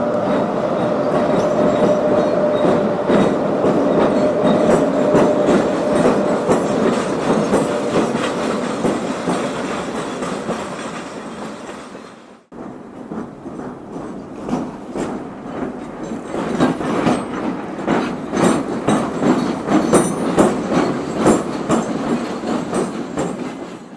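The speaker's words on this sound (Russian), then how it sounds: "вот электровоз и тепловоз в одном локомотиве" An electric-diesel dual-mode locomotive hauling a train past, a loud continuous rumble with rhythmic wheel clatter over rail joints, briefly dropping away mid-clip before the wagons keep rolling by nearby.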